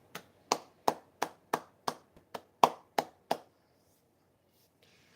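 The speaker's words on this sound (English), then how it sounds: "Give a round of applause." Around ten crisp hand claps land one after another at a steady, evenly spaced pace, quiet and close, with no crowd or voices around them.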